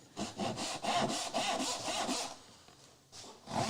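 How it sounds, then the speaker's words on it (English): Steady back-and-forth strokes of a medium tenon saw cutting down the middle of a wooden board, close and rhythmic rasping with a brief pause near the end. "I'll split this down the middle. I'll use my medium tenon."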